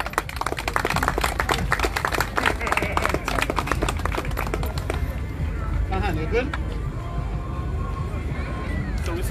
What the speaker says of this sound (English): give the brother a round of applause again